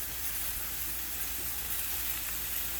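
Steam building up inside a pressure canner during home canning, a steady broadband hiss close by, constant and fairly loud with no breaks.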